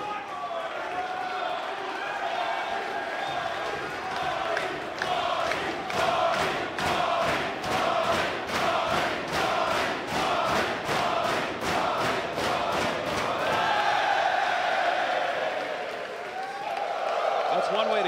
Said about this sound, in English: This crowd is so loud, I can't even hear myself think right now.